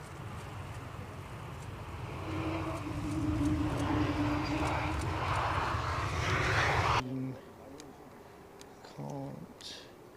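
KLM airliner landing at Edinburgh Airport, a broad engine roar that builds over about seven seconds and then cuts off abruptly, followed by quieter moments with a brief voice.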